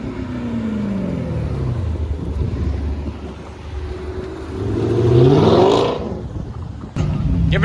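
A Dodge Hellcat at an outdoor cars-and-coffee meet revs hard, its engine note rising and falling in swells and peaking loudly near the end, with wind buffeting the microphone throughout.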